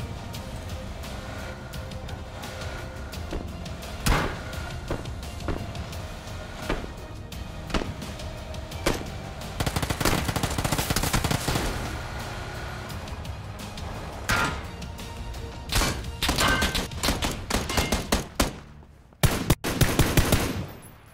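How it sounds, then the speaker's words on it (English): Video game gunfire during a PUBG firefight on Xbox One X: repeated bursts and single shots, some close and loud and others more distant, spread unevenly through a long exchange with short lulls and no speech. "here is an example of some guys that were shooting us while we were driving to the safe zone, and we decided to engage them and take them out"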